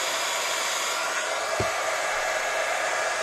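A heat gun warms gold embossing powder on a leaf in a steady, close blowing whoosh, with one small knock partway through.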